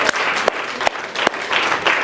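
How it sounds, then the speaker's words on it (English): An audience at a business event applauds Danielle with a short burst of claps, uneven and lively, lasting about two seconds. "Please give Danielle a big round of applause"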